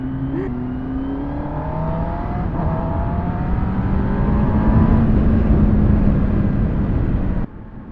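A BMW S1000RR M Sport motorcycle revs at a dealership, one loud sustained rev whose pitch climbs and holds for several seconds before cutting off abruptly, close and alone.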